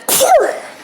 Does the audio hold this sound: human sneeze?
yes